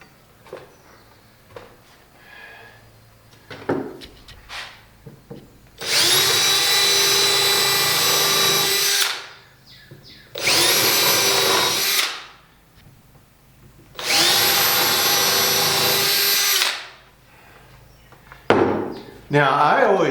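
Power drill pre-drilling screw holes in wood for a circular saw crosscutting box, three loud whining bursts of a few seconds each, separated by pauses with light handling knocks and brief voice.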